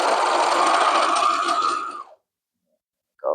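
A sewing machine stitches stretchy purple fabric for baby leggings, a steady close whir for about two seconds that stops abruptly, then a brief restart.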